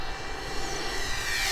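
A Durafly EFX Racer RC plane's electric motor whines at full throttle during a fast pass, a steady high-pitched buzz heard from a distance with faint wind noise.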